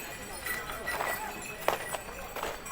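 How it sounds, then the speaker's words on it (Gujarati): Horses and mules plod along a mountain footpath to the Yamunotri temple, hooves clip-clopping in a loose rhythm at close range beneath chatter from pilgrims. "આવી રીતે ઘોડા ખચર."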